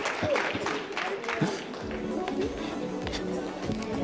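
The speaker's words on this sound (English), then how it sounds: "Just give him a round of applause." Audience at a business talk giving a round of applause, moderately loud, scattered clapping lasting several seconds, with some voices mixed in.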